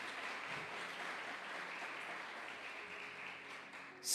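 A church congregation applauds, a steady dense wash of many hands clapping heard from a little distance, holding even throughout and swelling louder right at the end.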